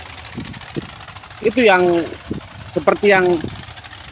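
The engine of a sand-mining operation thumps away with low, irregular odok-odok knocks in the background while someone talks close by over it.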